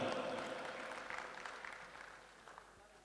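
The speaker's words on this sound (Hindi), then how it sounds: "जोरदार तालियां।" An audience at a Maheshwari youth organisation stage event claps to welcome a local councillor onto the stage, a moderate burst of many hands that gradually fades away over a few seconds.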